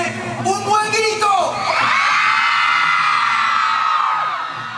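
A concert crowd in Belén lets out a loud, sustained roar of shouting and cheering, with whoops rising over a dense wall of voices that holds strong for several seconds before easing slightly.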